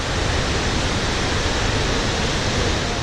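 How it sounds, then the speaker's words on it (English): The Victoria Falls waterfall in Zimbabwe, heard as a dense, constant roar that fills the whole space without a break, loud and unchanging, with mist-laden water thundering down. "the sound of the waterfalls was like music to my ears."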